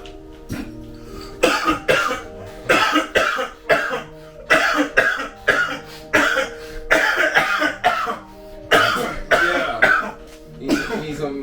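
A long, loud coughing fit close by, a run of harsh bursts repeating roughly every second for about eleven seconds, with throaty rasps between them and a faint music bed underneath.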